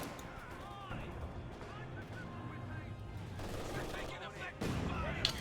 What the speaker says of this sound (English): Mortar fire and then the Grenadiers.